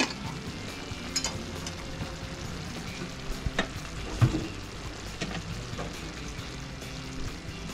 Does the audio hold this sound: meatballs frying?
yes